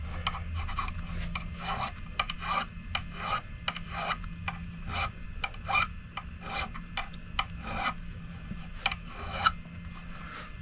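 Close, steady rasping of a metal file smoothing sharp guitar fret ends, stroke after stroke in an even back-and-forth rhythm with a low hum beneath.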